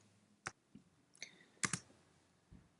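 Mouse clicks while pressing a button in Vilistus FadeBack software on a computer: a handful of sharp, close clicks, including a quick double click, scattered across otherwise quiet room tone.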